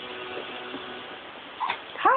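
A dog whimpers softly and then lets out a couple of high, rising yips at the end, close by and without talk.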